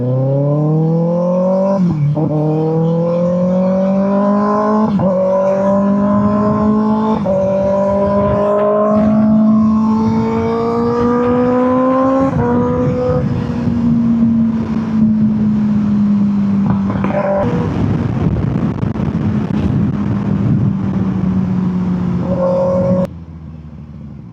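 Sustained engine whine from a 2025 Kawasaki ZX6R sport bike, rising in pitch through repeated gear changes as it accelerates and weaves, then settling into a steady drone before easing off at the end.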